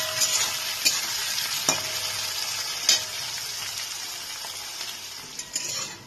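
Chopped onions frying in a pan for a Bengali chicken curry, a steady close hiss and crackle with a few sharp stirring clicks throughout.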